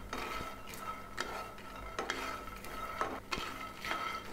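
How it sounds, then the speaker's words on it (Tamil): Peanuts dry-roast in a pan over medium heat, stirred with regular scraping strokes that rattle the nuts against the metal, quiet and close. "நான் மீடியமாக வச்சு நல்லா வறுத்துக்க போகிறேன்."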